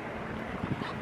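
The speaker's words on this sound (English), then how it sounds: "It's so windy." Wind blows outdoors on a breezy day, a steady broadband rush buffeting the microphone with a few low gusty thumps, close and continuous with no speech.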